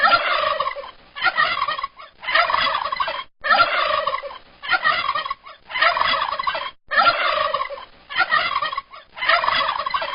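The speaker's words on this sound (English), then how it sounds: "Make sure you eat lots of turkey. Gobble, gobble, gobble." Turkey gobbling in loud, repeated bursts, one call after another with short gaps, close and clear with no talking.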